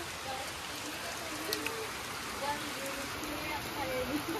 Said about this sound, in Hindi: देख लो अभी बारिश गिरना स्टार्ट हो गई है।